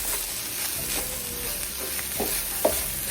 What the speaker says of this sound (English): Just continue to fry.